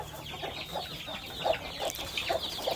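Village chickens from a backyard family flock cluck in short, repeated bursts close by, over a low rural background hum.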